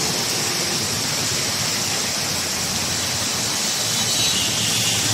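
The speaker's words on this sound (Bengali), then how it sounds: "প্রচুর বৃষ্টি হইতেছে" Heavy rain pours outside a Bajaj motorcycle service centre in Savar, a steady, loud, unbroken hiss that fills the whole stretch.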